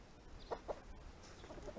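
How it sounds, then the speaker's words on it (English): Several short clucks from a flock of about 75 chickens being fed, a couple of louder ones early then softer chatter, over low rustling ground noise. "that's what it's like feeding 75 chickens in North Lake Fern"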